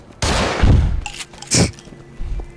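Grenades explode in the zombie shooter Contagion: one loud, booming blast is followed by a shorter second burst, both close and heavy with low rumble.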